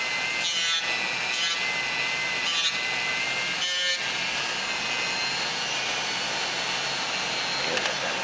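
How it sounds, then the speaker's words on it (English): Steady sanding on the plastic hull of a 1/537 scale USS Reliant model kit, a continuous gritty scrubbing that goes on throughout with a few short pauses. "the rest of it I'll sand smooth"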